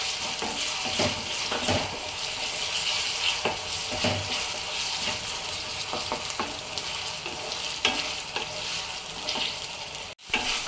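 Ginger-garlic paste frying in a pan for chicken handi, a steady close sizzle with stirring scrapes, brief clinks, and a short break near the end.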